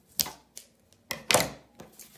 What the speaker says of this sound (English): I'm just going to use some scissors to cut my string on both ends.